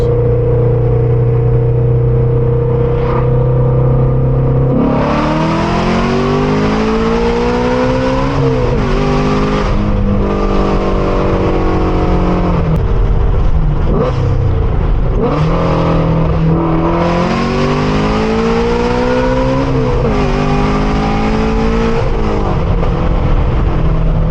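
A car engine pulls through the gears while driving, revs rising and dropping in repeated shifts, loud and close throughout with no talking.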